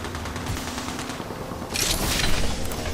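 Gunfire in a video game comes as a stretch of rapid shots that grows louder and denser in the last second, with an automatic weapon firing in close bursts.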